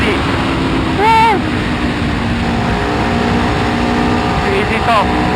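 An Aprilia Tuono 1100 V4 motorcycle accelerating on a hill climb road at Genting, a continuous engine drone with a sharp rising rev surge about a second in, then a steady wind-blown roar.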